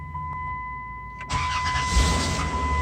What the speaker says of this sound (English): See, it fired up